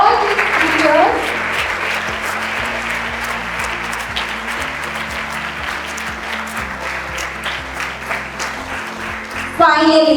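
Audience at a school student council investiture ceremony claps steadily for the teachers, a dense, sustained round of applause that carries on for about ten seconds before a brief swell at the end.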